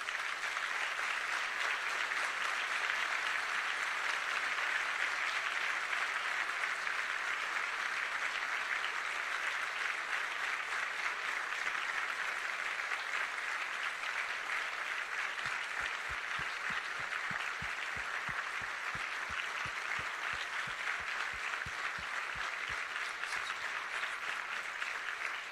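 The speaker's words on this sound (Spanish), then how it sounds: "Vamos a darle un fuerte aplauso al Espíritu Santo." A church congregation gives long, loud applause, a dense continuous wash of many hands clapping for over twenty seconds, with rhythmic low thumps joining in the latter part.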